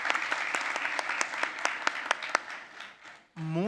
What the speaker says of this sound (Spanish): Muy merecido aplauso, Natalia,